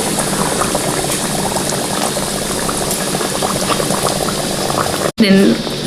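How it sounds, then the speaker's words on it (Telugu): Ariselu rice cakes frying in hot oil, giving a loud, steady, dense sizzle throughout, with a brief voice near the end. "ఇప్పుడు పైన నూనె పెట్టుకుందాం చూడండి నూనె పెట్టుకున్నాను కాగింది చేసి ఒక్కొక్కటి కాల్చుకోవాలి"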